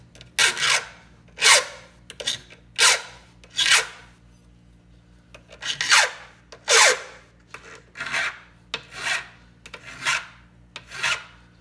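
Hand file rasping across the depth-gauge rakers of a Holzfforma G372XP chainsaw: about a dozen short, scraping strokes in a steady rhythm, close and clear with brief pauses between them.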